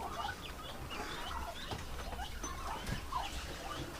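Chickens cluck steadily at a poultry farm where turkeys are also kept, producing a continuous murmur of scattered clucks and calls at moderate distance over a noisy background.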